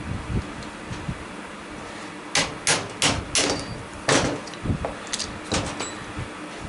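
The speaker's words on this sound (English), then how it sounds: "And the punch rolls on the floor." A loose metal punch drops and rolls across an uneven workshop floor, giving a loose run of sharp metallic clinks and rattles that bunch together over a few seconds at moderate loudness, with no talking.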